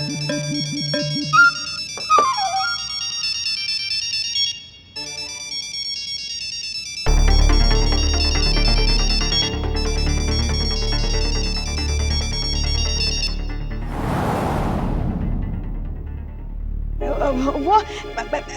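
A mobile phone ringtone plays a long, loud melodic tune that repeats, with music swelling underneath and a brief whoosh near the end, in a Hindi TV drama scene.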